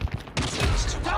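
Sniper rifle gunfire in the COD Mobile video game: a sharp burst around a third of the way in, then dense, loud battle noise that carries on to the end, with some faint voice early on.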